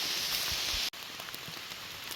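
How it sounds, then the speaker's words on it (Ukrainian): Steady rain pattering on leaves and ground in a forest during a mushroom-picking hike. A constant hiss of drops close around, briefly cut off for a moment, with no voices. "Дощ посилюється."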